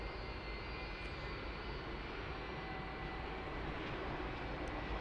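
Jet airliner at DFW Airport at night, a steady broadband engine roar holding loud and continuous throughout, with no other sounds.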